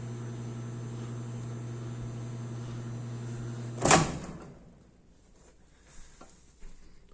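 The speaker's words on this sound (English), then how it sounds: "because that's what happens when you microwave gummy bears." A microwave hums steadily with gummy bears heating inside, then a sharp click or door clunk cuts the hum, leaving quieter room noise with a couple of faint knocks.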